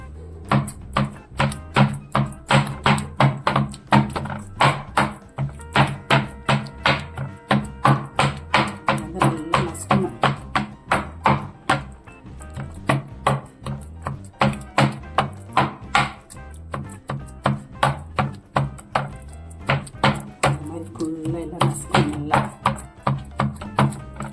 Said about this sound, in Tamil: பூண்டு வெங்காயம் நசுக்கிறேன் இல்லையா, அதில் போட்டு நல்லா இது வந்து நான் இடிக்க போகிறேன்